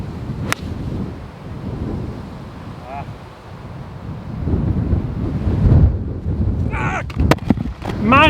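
Strong wind buffeting the microphone on an open links golf course, heavy rumbling gusts that swell and fade, with sharp knocks and a few squeaky sounds near the end.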